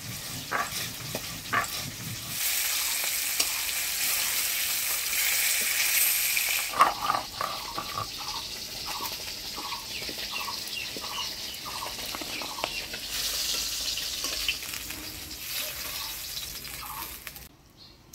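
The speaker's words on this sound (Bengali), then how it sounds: "আর মাছগুলো ভেজে নিব।" Fish frying in oil in a Bengali home kitchen, a steady crackling sizzle with bursts of louder spitting and short scraping stirs, close and continuous, with no talking.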